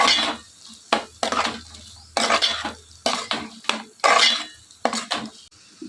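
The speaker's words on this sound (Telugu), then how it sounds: "ఇదంతా బాగా మిక్స్ చేసుకుని కొద్దిసేపు ఫ్రై చేసుకోవాలి." Chicken liver with coriander powder and garam masala is stirred as it fries in a pan. The spatula scrapes and clanks against the pan close up in repeated bursts, with a low sizzle between the strokes.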